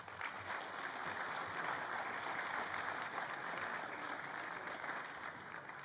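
Steady applause from a party conference audience greets award recipients, a continuous even wash of clapping held at moderate level throughout.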